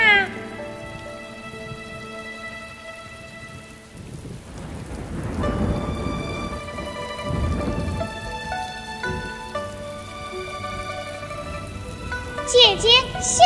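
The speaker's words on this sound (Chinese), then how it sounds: "下雨了，咱们快去躲避一下吧。" Steady rain falls by West Lake in an animated Chinese opera scene, a broad hiss that swells in the middle, layered over sustained instrumental music.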